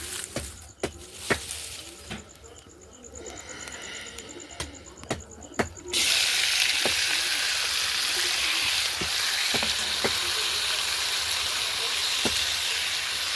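Chutney cooking in a pan after tempering with panch phoron: sparse sharp pops and crackles at first, then a sudden steady loud sizzle and hiss with occasional pops continuing to the end.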